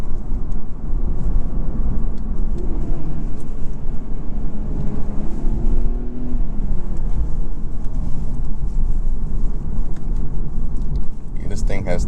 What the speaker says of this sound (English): going to brake torque it, let the turbos build a little bit of boost